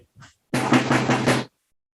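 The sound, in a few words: rope tension drum being played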